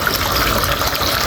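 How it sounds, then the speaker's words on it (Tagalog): A small decorative home fountain sends water out and down a set of little steps. The flow is a steady, close, continuous splashing rush with no pauses and no talking. "Fountain. Lumalabas na ganyan yung tubig, tapos bumababa doon sa hagdan."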